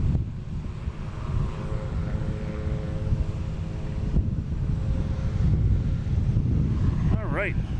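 A Delta jet airliner taking off from Boston Logan toward Atlanta gives a steady, fairly loud engine roar with a faint whining tone, wind rumbling on the microphone, and a short rising chirp near the end.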